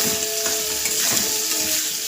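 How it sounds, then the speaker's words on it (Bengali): Potatoes with turmeric and salt fry in hot oil, giving a loud, even, continuous sizzle close by with no one speaking. "আর তেলটা গরম হয়ে গেছে বন্ধুরা, আমি আলু দিয়ে দিচ্ছি।"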